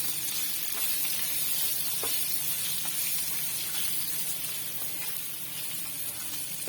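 Boiled potatoes sizzle steadily in hot oil while being stirred into a spicy masala for a potato fry, a continuous close hiss with faint scraping and stirring knocks throughout.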